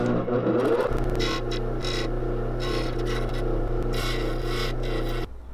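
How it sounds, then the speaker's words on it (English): A wooden block for a small glide-bait fishing lure is sanded by hand, a steady close rasping scrape that runs almost the whole clip at even loudness over a low background hum before stopping abruptly. "We're actually just gonna sand that."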